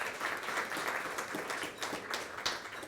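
A crowd at a political event applauds a county board chairman walking to the podium, with a short burst of even, moderately distant clapping and no pauses.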